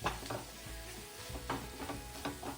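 Paneer jalfrezi is stirred in a pan, a quiet low sizzle broken by a few soft scraping strokes of a spoon, with no talking.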